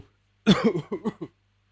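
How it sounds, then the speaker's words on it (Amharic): A man coughs in a quick cluster of five or six harsh, close bursts after a short silence, with a faint low hum in the background. "ሳሉን እየተሰቃየ ጨረሰና"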